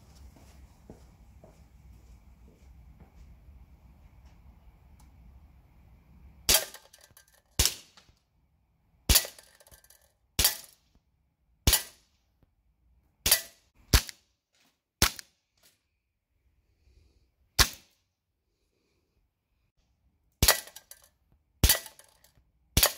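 Tokyo Marui FNX-45 airsoft pistol fired at a target from about 15 meters, ten sharp separate shots at irregular intervals, crisp and close, with quiet pauses between them and no talking.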